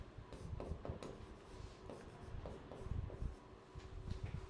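Pen or marker writing out a calculus derivation of trigonometric derivatives, heard as close, continuous scratchy strokes with short taps and pauses between them, no talking.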